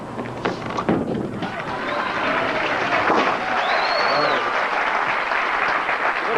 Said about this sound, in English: They start cheering when the ball is 2/3 of the way down the lane.